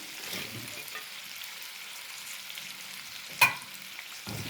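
Onions going into a pan of frying chicken liver and gizzards, a low steady sizzle with one brief clink of a utensil near the end, close and without voices.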